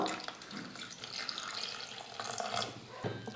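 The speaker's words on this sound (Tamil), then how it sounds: "வாழைக்காய் வேக வைக்கிறதுக்கு இன்னும் கொஞ்சமாக தண்ணி சேர்த்துக்கிறேன்" Water poured into a pan of raw banana pieces for cooking, a steady close splashing stream running for a few seconds, with no talk.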